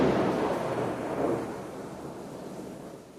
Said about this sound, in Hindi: देख सकते हो बाहर कितनी जोर से बारिश हो रही है, कि बिजली बहुत तेज कड़क रही है।